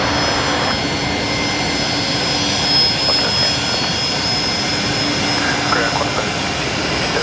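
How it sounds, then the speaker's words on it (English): A Fokker airliner taxiing into a parking bay at Brisbane Airport, a loud, continuous engine roar and whine that swells slightly midway, filling the whole stretch with no clear speech. "we got a noisy Fokker coming into the bay right in front of us"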